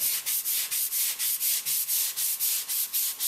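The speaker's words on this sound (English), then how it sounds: "by sanding her lightly, very lightly, and it's pretty easy to tell when you've done enough because she's silky smooth again" Hand sanding the finish of a 1953 Shepherd Model 110 wooden boat, a close, steady back-and-forth rasp in quick even strokes, about four per second, with no voices.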